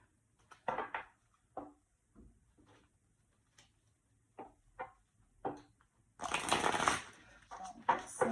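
Tarot cards are handled for a reading in short, separate soft riffles and taps, then a denser burst of shuffling near the end, close and quiet with no talk.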